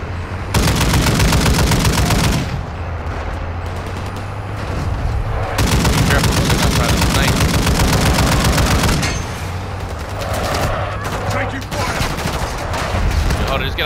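Sustained automatic gunfire in a first-person shooter video game, long rapid bursts of loud, close shots broken by short pauses, with heavier booms mixed in and voices talking underneath.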